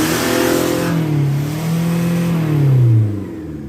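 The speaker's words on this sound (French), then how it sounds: "Alors honnêtement au niveau du bruit ça va. C'est pas un bruit de mazout de ces gros morts," A Peugeot 306 diesel with a full straight-through exhaust revs up and settles, its deep engine note rising and falling in pitch, loud and close with no talking.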